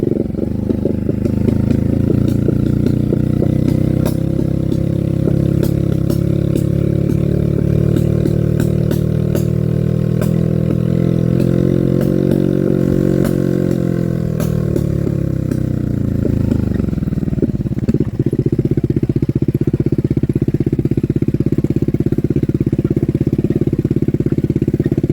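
A motorcycle engine runs steadily for the whole stretch, idling and revving in a long swell that rises and falls midway, then settles back to a rough, loud idle with faint clatter.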